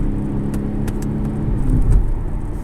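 A BMW M135i xDrive First Edition, in comfort mode, gives a steady low engine drone and road rumble from inside the cabin while driving, swelling slightly near the end, with no talking.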